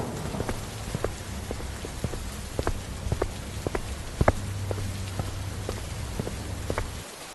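Steady rain falls in a Hindi cartoon, a constant wash of patter broken by scattered sharper drips and taps that land close by. No one speaks over it.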